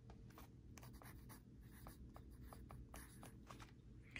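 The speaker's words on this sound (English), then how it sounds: "So I'm going to write that code down." A pencil scratches steadily across paper as a medical code is written down, soft rhythmic strokes close up over a low background hum.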